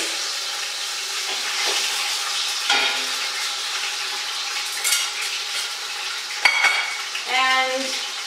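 Meat browning in a pot for a sauce, a soft, steady sizzle beneath intermittent scrapes and clinks of a utensil against the pot, with a brief metallic ringing near the end.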